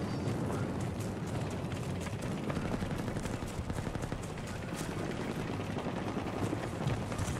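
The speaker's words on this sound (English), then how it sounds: "What's the sound of a tank exploding?" A tank explodes amid a continuous, dense din of battle in the video game Battlefield 2042, with heavy gunfire and booming blasts layered thickly throughout and no clear pause.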